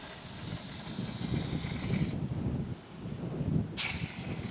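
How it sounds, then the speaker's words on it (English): Strong Simpson Desert wind roars and buffets the microphone in gusts, a loud rushing hiss that swells and briefly drops out. "It's windy,"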